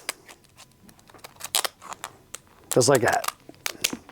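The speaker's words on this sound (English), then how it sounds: "You're going to take your scissors." Scissors snip and crunch through a crab to cut it in half for fishing bait, giving sharp close clicks and a dense crunching burst, with someone talking around the cuts.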